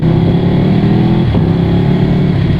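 Ducati Streetfighter V2 fitted with a full Akrapovic exhaust system, idling up close, a loud, deep, throbbing twin-cylinder rumble with a brief blip of revs midway.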